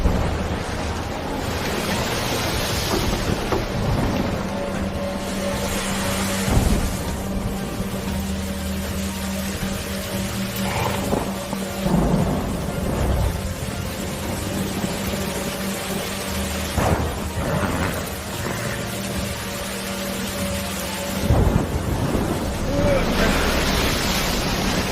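Wind and crashing waves roar from a storm at sea around a small boat, a dense continuous rush with surges and gusts lasting throughout, loud and close.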